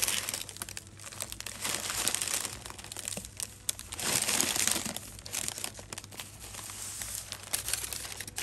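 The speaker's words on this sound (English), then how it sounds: "as you roll it, you need to make sure you lift up the paper and you help it roll as you go." Baking paper crinkles and rustles as a Swiss roll sponge is rolled up in it, close, irregular crackling that swells and eases in waves with no voices.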